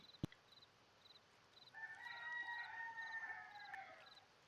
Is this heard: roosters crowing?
yes